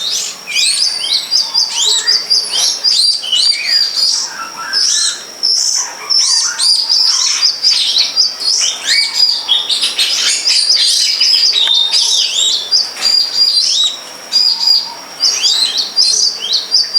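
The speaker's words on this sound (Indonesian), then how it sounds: "Ada gelatik juga teman-teman di sampingnya. Lagi bunyi-bunyi, entah sebelah mana itu." Java sparrows and a shrike calling in the wild, a dense overlapping run of high chirps, whistles and trills, loud and continuous throughout without pause, no voices.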